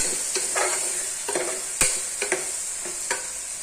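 A spatula scrapes and stirs okra and chopped tomatoes frying in oil in a pan, giving a series of close, distinct scraping strokes over a constant bright sizzle, with no talking.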